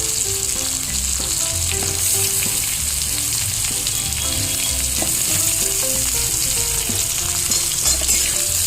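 Pumpkin pieces sizzle and crackle steadily as they fry in hot oil for a homestyle fish curry with vegetables, a close, continuous spatter with small pops throughout and no talking.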